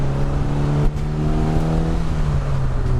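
An Indy RX-5 Aerorace, a light roughly 600 kg sports car built from an MX-5 Miata, drives at a steady engine pitch that slides gradually during acceleration, a close in-cabin hum heard without talk.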